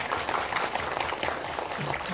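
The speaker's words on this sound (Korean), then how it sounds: "저희 축하 박수 한번." Brief, fairly soft round of clapping from an audience at a film talk event, congratulating an actor on winning an acting award at the Jeonju International Film Festival.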